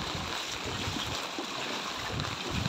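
Floodwater runs through a street in Tansa, Navotas during a typhoon, a steady broadband rush and swash of moving water close by, continuous with no talk.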